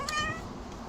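A cat gives a single short meow, close and fairly loud, with a bright tonal rise at the start that fades into a quieter room afterward.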